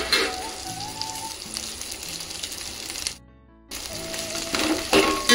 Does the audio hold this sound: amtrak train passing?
no